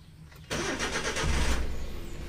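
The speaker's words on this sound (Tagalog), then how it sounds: "Siguro naman naririnig yung umaandar ng makina." A Suzuki DA64W mini van engine cranks and catches after a quiet moment, then settles into a steady, fairly loud running idle close by with no talk.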